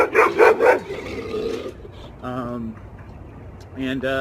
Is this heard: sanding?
no